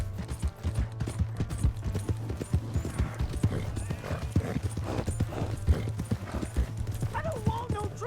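Fast, rhythmic hoofbeats of a galloping horse in Red Dead Redemption 2, loud and close, mixed with shouting voices and a low rumbling background.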